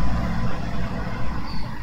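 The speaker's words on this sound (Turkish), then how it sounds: "Şu araba sesleri de maşallah." Car and truck traffic heard from a desk by a window, a low continuous engine rumble with passing vehicles, fairly loud and steady.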